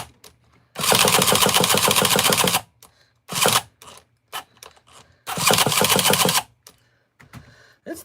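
A carbureted engine on a workbench sputters and fails to catch, with three long ragged bursts of rapid firing, each cutting out into silence and faint clicks.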